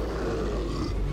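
A large monster roars behind the player in the horror game Dead Space 2, a loud, continuous low growl that fills the whole moment with no speech.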